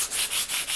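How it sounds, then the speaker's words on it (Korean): Sandpaper is rubbed across a wooden napkin-art flower tabletop mirror, making close, rhythmic scratchy strokes, about four back-and-forth passes with no talking. "완전히 마르시면 사포질을 해주는데요"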